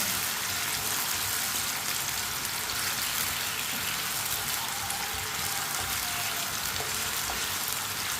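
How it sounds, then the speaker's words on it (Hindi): Potato pieces frying in a pan for karela aloo sabzi, a steady dense hiss and crackle of hot oil with no voices. "आलू को भी 2-3 मिनट के लिए पका लेंगे, फ्राई कर लेंगे इसे।"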